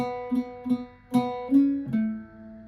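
An Irish bouzouki picks a short phrase of bright, ringing notes from the tune Old Hag You Have Killed Me, each attack decaying quickly, played close and alone.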